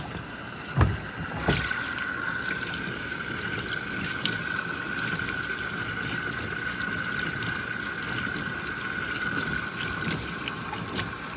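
Water runs steadily in a sink while soap is rinsed off a car-detailing item. A continuous close splashing rush with a faint tonal hum, plus a couple of brief knocks near the start.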